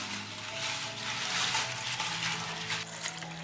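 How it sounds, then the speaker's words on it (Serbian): Water pours steadily into a cooking pot holding onion skins, a continuous close splashing flow with no talk. "Sipat ću vodu u šerpu."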